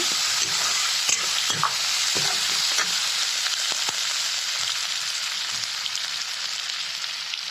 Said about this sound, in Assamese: যাতে কেৰাহীত লাগি নধৰে কাৰণে অলপমান লৰাই দি থাকিব লাগিব।